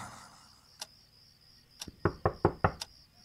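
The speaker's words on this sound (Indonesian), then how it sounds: "Aku merasa dia mengetuk pintu kamar." Knocking on a bedroom door: one isolated rap, a pause, then a quick burst of four or five firm knocks in steady rhythm, close and clear in a quiet room.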